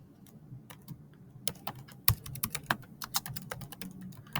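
Someone typing a title on a computer keyboard, with clear, close key clicks that start sparse and then turn into quick, irregular bursts, heard without talk.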